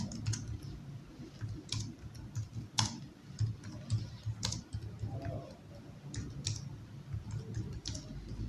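Keys clack on a computer keyboard in short, irregular bursts of light clicks over a low steady hum, near and moderately quiet, with no voices.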